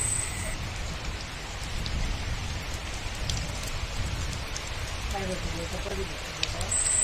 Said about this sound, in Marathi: आणि हे बघा पावसाक आता सुरुवात झालेली आहे